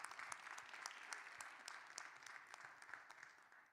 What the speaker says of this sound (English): please join me in giving a round of applause to both of our presidential candidates